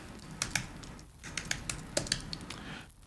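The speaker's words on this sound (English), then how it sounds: "Let me type this in." Keys clatter on a computer keyboard in a short burst of irregular taps, close and fairly crisp, with brief pauses between clusters and no voices.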